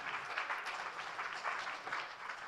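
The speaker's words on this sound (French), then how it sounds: "je vous demande d'accueillir sous vos applaudissements M. Pierre Buller, président de l'Institut français, qui vient de Paris." Steady audience applause greeting a speaker at a conference plenary session, a continuous wash of many hands clapping at moderate distance, fairly faint and unbroken throughout.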